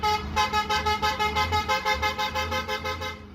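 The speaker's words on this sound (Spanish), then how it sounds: "varios buses extraurbanos modifican sus bocinas con tonos musicales o estridentes que afectan a peatones, automovilistas y vecinos del área" A modified extra-urban bus horn blares a shrill, musical tone in a steady pulsing pattern of repeated honks, loud and close, running without a break for several seconds.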